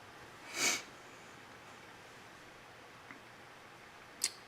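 A person getting over a cold gives two brief sniffles, a stronger one early and a short sharp one near the end, faint and close against a quiet room.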